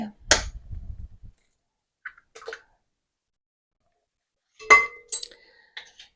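An egg cracked and dropped into a bowl of bubbly yeast mixture for homemade dinner rolls, giving a short clink and soft plop, followed after a pause by a few light kitchen taps and clatters, with no talk.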